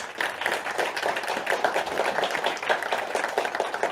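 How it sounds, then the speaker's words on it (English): Audience applause at a tech talk on no-code and low-code platforms, a dense, even patter of many hands clapping at moderate volume, sustained throughout without a clear peak. "Some applause."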